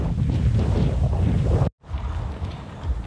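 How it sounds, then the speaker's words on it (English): Strong wind on the coast of El Hierro in the Canary Islands buffets the microphone with a loud, steady roar that cuts out briefly before resuming. "Oh my god, it's so windy."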